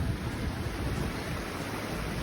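Creek water rushes steadily at a hiking trail crossing on the Pacific Crest Trail near Warner Springs, a broad, even wash of flowing water close by with no voices.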